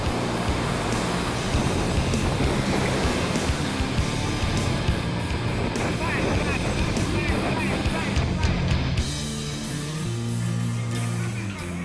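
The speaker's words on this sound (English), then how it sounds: "Monster waves are pounding the coastline." Monster surf pounding a Jamaican coastline in Hurricane Dean, a dense continuous roar of crashing water and storm wind, with a deeper rumble appearing near the end.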